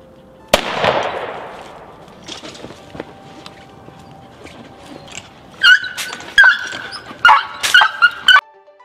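Two female Pyrenean Shepherd dogs scuffle at home, with a loud snap or yelp at the start, then a stretch of low scuffling and a later run of sharp, close barks in quick bursts.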